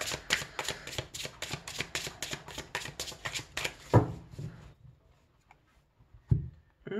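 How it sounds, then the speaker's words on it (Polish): Tarot cards being shuffled up close: about four seconds of rapid, evenly spaced riffling bursts, then quieter handling with a couple of sharp taps in near silence. "Karty są przygotowane, wypadają same."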